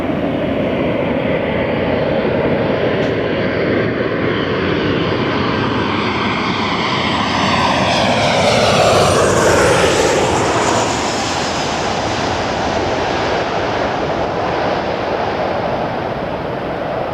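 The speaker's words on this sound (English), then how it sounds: "A350-900 from Charles de Gaulle, Air France 76." An Air France Airbus A350-900 at LAX roars past at close range, its jet engines building to a loud sustained rush and a falling whine as it goes by.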